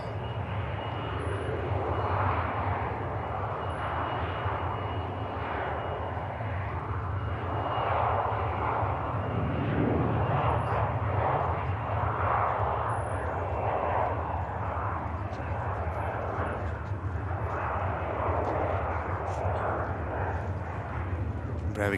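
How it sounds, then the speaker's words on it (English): Embraer jet rolling down the runway for takeoff at Manchester Airport, a loud steady engine roar that swells toward the middle and stays strong throughout, with a voice talking over it. "Embraer on the roll."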